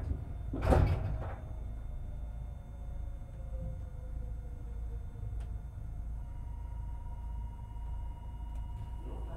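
On a Meitetsu Panorama Super train, the doors shut with one loud, close thud near the start, followed by a steady low rumble and hum from the stationary train.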